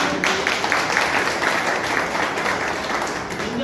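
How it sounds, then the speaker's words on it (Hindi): Steady applause from an audience at a product seminar promoting health products, continuous dense clapping at moderate level throughout without speech. "ये डब्बू के दाल करके मैं कहूँगा इसके लिए जोरदार ताली।"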